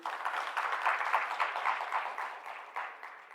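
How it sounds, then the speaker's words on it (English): A conference audience applauds a speaker, with a moderate, even patter of many hands clapping that holds steady and softens slightly toward the end. "Let's give him a big round of applause,"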